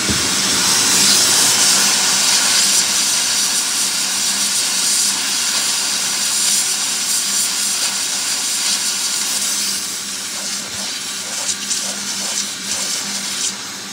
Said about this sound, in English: hold my steamer to it and then vacuum it up as I'm steaming it